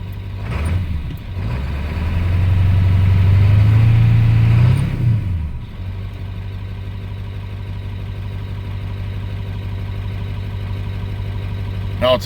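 A Ford 7.3 Powerstroke diesel truck engine, checked for a charging fault, idles with a deep, steady rumble that briefly rises louder for a few seconds before settling back to an even, close idle.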